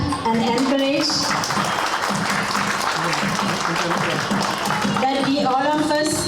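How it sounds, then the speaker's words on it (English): Audience applause at an Ayurveda and Siddha health care center function, honoring dignitaries on the dais: steady sustained clapping filling the whole stretch, with a voice and some tonal sounds over it near the start and end. "Let us give a good clap and encourage"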